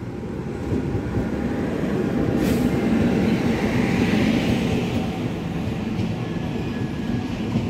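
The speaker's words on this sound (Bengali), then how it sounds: "ফাইনালি আমার বাড়ি যাওয়ার ট্রেন চলে এসেছে" A train pulling into Bhedia station, a loud, continuous rumble and rolling clatter of rail cars close by that swells and holds steady, with a faint brief hiss partway through and no talk.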